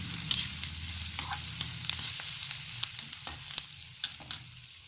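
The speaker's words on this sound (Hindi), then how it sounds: "प्याज को आप मीडियम गैस पे फ्राई करें, जिससे आपकी प्याज गलेगी नहीं और अच्छे से सॉफ्ट हो जाएगी।" Onions for bharwa karela fry in oil over a medium gas flame, giving a continuous close sizzle broken by sharp stirring clicks and scrapes.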